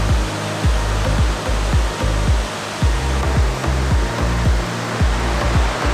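Bride Veil waterfall roars in a steady, loud broadband wash close by, with a series of low, dull thuds recurring throughout.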